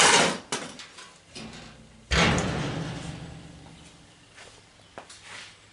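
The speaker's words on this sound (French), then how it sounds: "Je referme la porte." A wooden door on a Citroën Traction 11B is closed: a few knocks and a light thud, then one loud, solid slam up close, followed by fainter knocks and rattles.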